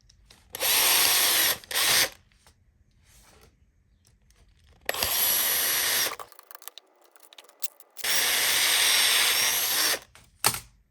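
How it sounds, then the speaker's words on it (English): A power drill drilling out a rivet whines loudly in three long bursts, with short quiet gaps and a few faint clicks between them, no voices. "If in doubt, drill it out"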